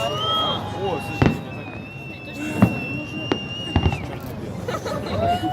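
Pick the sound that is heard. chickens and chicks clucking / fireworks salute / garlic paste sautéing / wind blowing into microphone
fireworks salute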